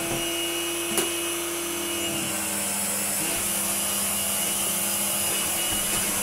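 A Numatic Henry HVR160 vacuum cleaner with a modified motor runs continuously: a loud, steady whine and airy roar, with a short click near the start and a slight shift in pitch partway through.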